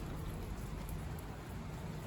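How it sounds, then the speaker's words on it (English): Steady rain falls outdoors in a garden, a dense, even hiss of drops on surfaces that stays constant with no voices. "That would have been a mess with all this rain."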